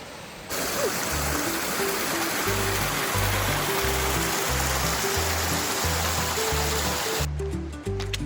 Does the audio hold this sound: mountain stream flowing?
yes